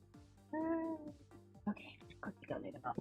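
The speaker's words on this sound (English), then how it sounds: "that is the sound of the Chaos Cat descending from on high to terrorize the world" A house cat meows at a door, one clear drawn-out cry followed by several shorter, fainter mews, with a person talking quietly in between.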